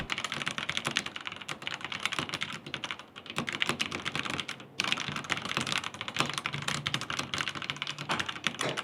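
Rapid, steady typing on an Amarggeddon entry-level mechanical gaming keyboard, dense clicky keystrokes close up and continuous with a brief pause, no talking.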